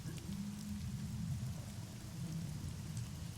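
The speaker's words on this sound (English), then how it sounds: "when you wake up, it is raining" Steady rain falls throughout, a continuous low rumbling wash with no voices over it.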